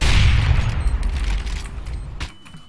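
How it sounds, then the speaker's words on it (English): A flashbang grenade goes off in a video game: a loud, dense blast with a booming low rumble that decays over a couple of seconds before a sharp closing crack and a brief high ringing tone, with no voices. "I stared into the soul of that flashbang then"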